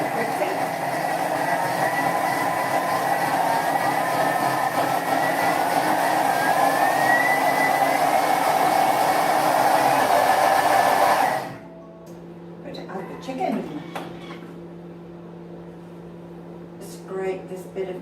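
A kitchen machine blending hot butter chicken sauce, a loud steady whirring roar ramped up slowly from speed 4, running for about eleven seconds before cutting off abruptly, followed by faint clinks and a voice talking over the quiet.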